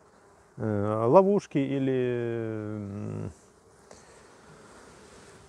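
A single honeybee buzzes loudly up close for about three seconds at a Kenyan top-bar hive with a swarm trap, its tone wavering and rising before cutting off, with a quiet voice nearby.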